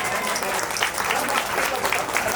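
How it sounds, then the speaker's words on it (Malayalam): At a Kerala wedding reception, guests clap together in dense, steady applause, a moderately loud wash of many hands filling the room without a break. "ഒന്ന് ക്ലാപ്പ് ചെയ്യോ?"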